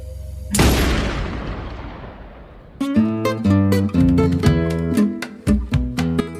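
A single loud gunshot boom over a black screen with a long decaying rumble, followed by a steady musical passage with rhythmic hits, at the end of the series Ozark.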